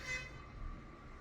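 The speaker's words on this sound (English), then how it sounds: "It was some form of air horn" A truck's air horn sounds once, a sustained tonal blast heard at a moderate distance that fades out over about a second, with no voices.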